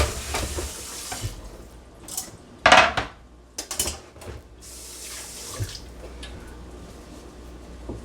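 A cutting board is rinsed under a running kitchen tap, water streaming and splashing unevenly with a few sharp clatters and knocks of the board against the sink, close and without talk.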